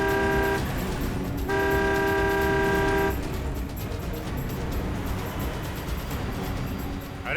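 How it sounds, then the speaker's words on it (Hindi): Car horn honking in two long blasts amid road traffic during a police chase, the engine and road noise rumbling steadily underneath and continuing after the horn stops. "ओवरटेक करो इस गाड़ी को।"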